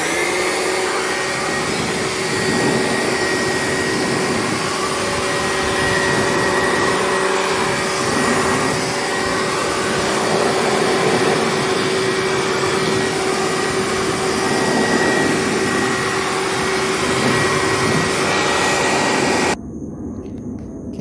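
A loud, steady air blower roars continuously while clearing out a Hayward H400FDN pool heater being disassembled for heat exchanger repair, cutting off abruptly near the end.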